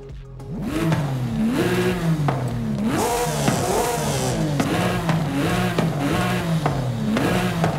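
Nearly 4-litre flat-six engine in Forza Horizon 5 revs repeatedly, rising and falling in pitch through several loud, close throttle blips with a steady engine drone beneath.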